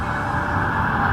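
Emergency vehicle sirens wail steadily in the background of a small-town outdoor setting, a continuous droning tone with no talk.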